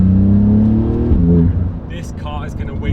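A Porsche 911 GT2 RS, a 777 hp car, revs hard with a deep rising engine roar that eases off midway. A person then speaks over the quieter idle.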